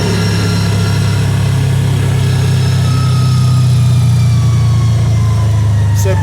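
Steady low rumble of a car engine cruising through a lakeside neighborhood, loud and continuous inside the vehicle with no pauses.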